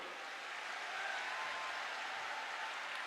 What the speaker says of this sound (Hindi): एक बार जोरदार ताली बजाकर सब संतों का स्वागत करो।